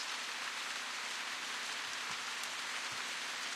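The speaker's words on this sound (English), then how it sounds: "It's raining now?" Rain falls steadily in a video game, a constant, even hiss of drops with a few soft, isolated patters and no voices.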